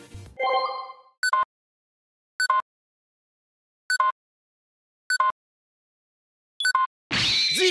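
A Go-Phone toy from the Go-onger series sounds its Engine G12 combination effect: a short descending tone, then five evenly spaced quick electronic beeps, and a sudden loud whooshing burst at the end.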